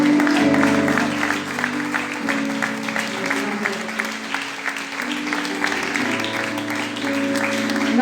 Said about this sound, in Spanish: Démosle ofrendas de palmas al Señor.